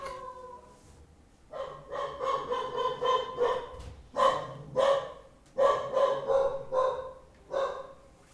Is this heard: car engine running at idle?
no